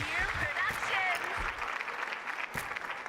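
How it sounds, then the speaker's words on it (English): Polite golf-clap applause at an award ceremony in a 1920s movie-studio video game, a steady patter of light claps held at even loudness for about three seconds, with a few brief voice-like tones mixed in. "Golf clap."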